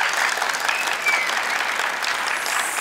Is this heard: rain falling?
no